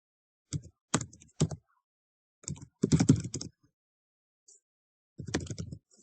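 Computer keyboard typing heard up close in short clustered bursts of clicky key taps separated by brief silent pauses, in a quiet room with no talking.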